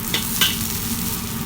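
Garlic sautés in a hot pan, giving a close, steady sizzle with a couple of quick stirring scrapes near the start of the short burst.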